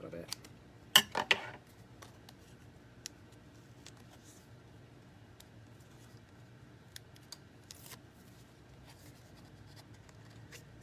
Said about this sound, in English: Trim that off a little bit.